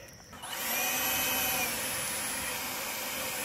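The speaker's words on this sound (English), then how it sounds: "And the leaf blower, just to kick things up a notch." A leaf blower starts up outdoors near a pole barn and quickly climbs to a loud, steady, high-pitched roar that holds without letting up.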